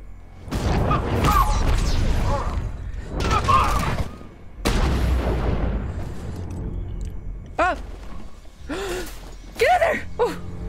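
Automated sentry gun in Batman: Arkham Knight firing several loud, broadband bursts of rapid gunfire, separated by short gaps, with gasps and voices mixed in.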